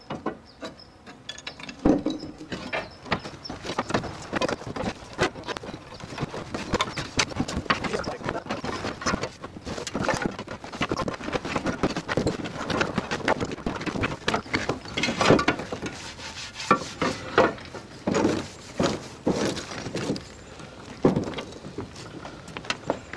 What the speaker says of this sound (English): As we're tearing off these tiles, we want to try to brush them down a little bit, get some of the dust off.